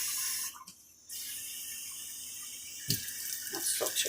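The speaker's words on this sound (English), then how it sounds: "Cool this down with some cold water." Cold water runs from a tap into a kitchen sink as a steady hiss that briefly stops and restarts, followed by some splashing and clatter near the end.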